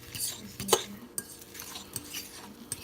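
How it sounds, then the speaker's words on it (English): A utensil stirs egg into a mackerel patty mixture in a bowl, with close scraping and clinking strokes at an irregular rhythm while a skillet heats nearby. "I'm going to mix all this egg in."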